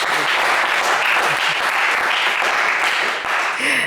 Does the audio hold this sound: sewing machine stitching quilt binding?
no